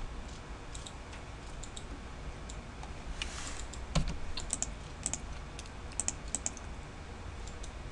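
Rapid clicking from a computer mouse while working in design software, light irregular taps clustered in quick runs, close and fairly quiet, with no voices.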